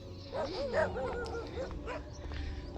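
Village dogs yip and whimper in short, high, wavering calls, moderately close, several bursts over an outdoor background with no talk.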